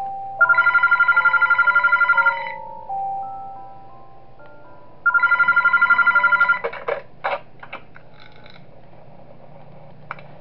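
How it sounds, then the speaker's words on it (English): In the video game Those Nights at Wario's 3, a room phone rings in two loud, rapid trilling bursts of about two seconds each, separated by a lower steady tone and followed by scattered electronic clicks and bleeps. "Gotta call the room phone."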